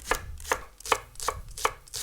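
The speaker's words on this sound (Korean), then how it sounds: "그리고 냄비에 넣을 건 잘게 잘라주겠습니다" A knife chops green onion on a cutting board: six steady, evenly spaced, crisp chops, close up, with no voices.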